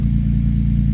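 A 2007 Nissan Xterra with engine misfire trouble idles steadily, giving a loud, even low engine drone with a faint rhythmic pulsing and no change in speed or any talking.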